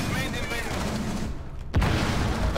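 Gunshots in the Rainbow Six Siege video game form a dense rattling burst, then a sharp loud report, with game noise and voices nearby.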